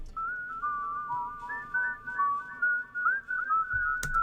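A man whistles a melody for a music track, a clear, pure sustained tune of flowing phrases with slight vibrato, close and alone, ending with a small click.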